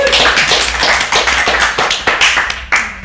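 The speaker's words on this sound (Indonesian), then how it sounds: "Tepuk tangan untuk Caca." A studio audience applauds for Caca, a young keyboard and piano player, with dense, steady clapping that fills the room and keeps going throughout, loud and close, with no one talking over it.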